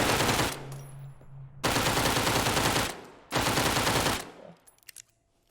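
Bursts of rapid automatic gunfire at a shooting range in the Dead Matter video game, three loud sustained volleys separated by short pauses, ending with a few scattered single shots and mechanical clicks.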